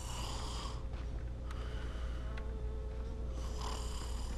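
A character in the zombie game Dying Light snores, a continuous rough, raspy droning with slow breathing swells, close and fairly loud, with no talking.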